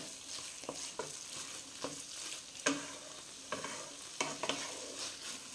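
Food is stirred in a frying pan, with scattered scraping knocks of a spoon over a soft constant sizzle, quiet and close, no voices.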